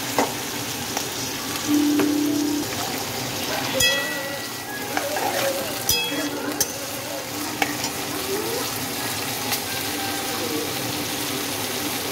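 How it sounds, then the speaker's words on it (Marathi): Oil sizzling steadily in a kadai as green chillies and tomatoes fry, with occasional scraping and stirring clatters of a spoon against metal, close and moderately loud. "आता आपण कढईमध्ये तेल तापत ठेवले, त्याच्यामध्ये आपल्या हिरव्या मिरच्या आणि टोमॅटो टाकूया"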